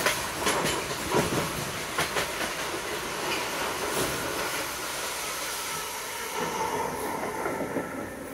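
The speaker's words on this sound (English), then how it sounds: "There goes the freight train," A freight train passes alongside a moving Elizabeth line train, heard as a steady rumble and rail hiss with repeated clicks and clatters, fairly faint and without talk.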